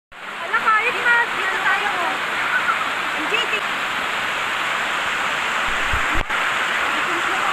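Waterfall at Blue Water Falls roaring as a steady, dense wash of falling water close by, with some faint chirps early on and occasional small splashes.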